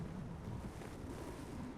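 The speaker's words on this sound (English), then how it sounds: "It's so windy up here." Wind blows in Dragon Age: Inquisition on a high, exposed spot, a faint, steady, breathy rush with no other sounds.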